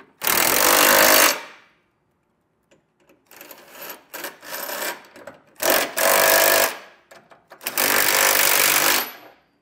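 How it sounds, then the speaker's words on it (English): Power tool driving a 3/4 inch socket to snug down trailer hitch receiver hardware on a 2021 Ford Bronco Sport, loud close bursts of rattling whir separated by pauses and lighter clanks. "come back with a 3/4 inch socket and snug it all down"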